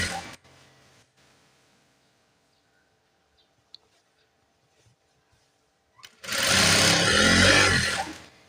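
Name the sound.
sewing machine stitching nurse uniform top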